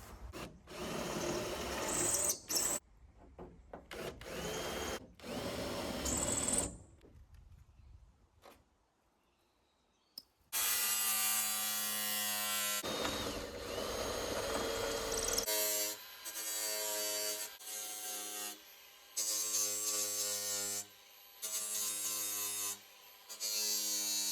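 A power drill whines in several short and long bursts, with gaps of near silence and a gritty, grinding edge as it drills out metal rivets on a vintage caravan.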